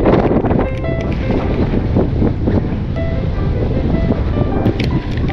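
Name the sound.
strong wind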